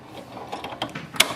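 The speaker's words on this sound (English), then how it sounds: "Once you hear the lock sound, it is installed properly." An HP DeskJet 2622 ink cartridge snaps into its slot with one sharp, close click near the end, after a few softer plastic taps and rattles from the printer mechanism.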